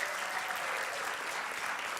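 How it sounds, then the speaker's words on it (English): Audience applause at a Digital Health Weekend session as a guest speaker comes on stage, a steady, dense wash of clapping from a crowd sustained evenly throughout, with no voices over it. "Let's give her a round of applause as she comes"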